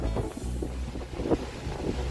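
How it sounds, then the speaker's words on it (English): Strong wind buffets a sailboat at sea, a rough low rumble of gusts and microphone wind noise with splashing water, steady throughout without speech. "It's pretty windy out here."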